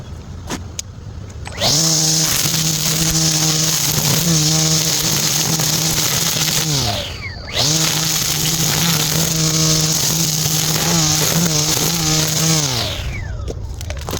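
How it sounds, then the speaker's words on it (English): An EGO cordless string trimmer running on its low setting cuts weeds outdoors, with two steady, loud whining bursts of several seconds each; each winds up and then trails off, with a short pause between them. "Get this old trimmer here. Alright, on low. Start out on low first."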